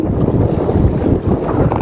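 Strong wind roars over a traditional Filipino fishing boat at sea, a loud, continuous buffeting rush close to the microphone with waves beneath.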